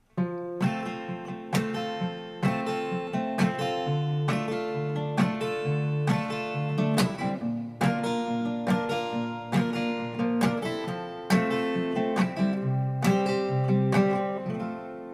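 Steady acoustic guitar playing the verse of a song, a repeating eight-bar chord progression, with rhythmic strums and a fingerpicked pattern at an even, close, full level with no talking.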